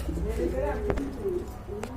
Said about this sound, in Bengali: এক জোড়া সিরাজি কবুতর রয়েছে এখানে